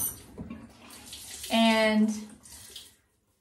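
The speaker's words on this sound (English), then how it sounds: "So I'm gonna rinse this off really well and just get the makeup off" Tap water runs and splashes steadily while a face is rinsed to remove makeup, a fairly close broadband wash that swells louder midway, with a brief spoken word at the start.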